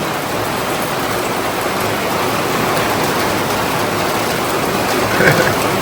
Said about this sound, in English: Rain a come down.